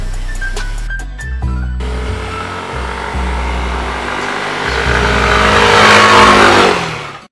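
A Yamaha Mio Aerox 155cc scooter engine revs close up, a steady mid-pitched drone that climbs into a louder, higher whine toward the end before cutting off abruptly.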